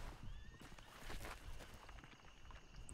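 A horse in a video game whinnies, and its hooves clip-clop at a walk, soft and somewhat distant, with no one speaking.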